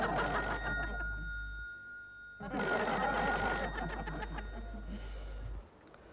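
A telephone rings in repeated electronic bursts, loud and close, with a short pause between rings and no voices.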